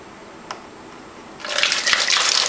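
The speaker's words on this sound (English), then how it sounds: "I'm gonna pour this into a 2 liter that I have" Fermented homemade apple cider pours into a 2-liter plastic bottle, starting after a quiet moment as a loud, steady gush and splash of liquid that continues to the end.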